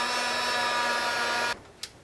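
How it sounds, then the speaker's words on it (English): Heat gun drying ink on cardstock: a steady, loud blowing whir that runs continuously, then cuts off abruptly, followed by a faint click. "I'm going to use my heat gun just to speed it up"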